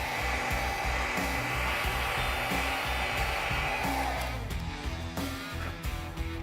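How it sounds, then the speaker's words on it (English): A hair dryer blows with a steady, loud whoosh and motor hum while drying hair, its tone shifting slightly as it moves, then becoming choppier near the end. "I'm just gonna go in with a hairdryer and dry that off."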